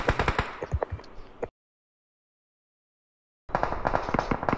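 Rapid bursts of video game gunfire in an ROV tournament match crackle loud and close, cut off by about two seconds of total silence before the dense, rattling shots resume.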